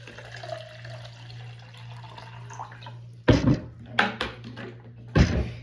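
Water from a 16-ounce measure poured into a pre-workout shaker bottle, heard as three short splashing bursts near the end after a quiet stretch with a low steady hum.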